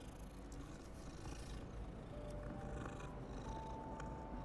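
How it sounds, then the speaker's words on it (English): A cat in Hogwarts Legacy purrs softly and continuously at a low, even level, with a faint meow tucked under the steady rumble of the game's ambience. "That meow wasn't very convincing as a cat"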